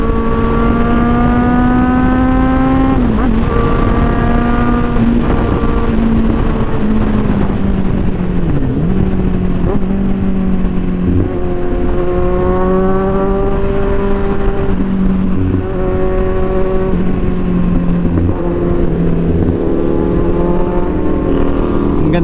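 A Kawasaki Z1000R motorcycle engine revs loud and close throughout while the rider rev-matches. The pitch rises and dips repeatedly with each blip of the throttle.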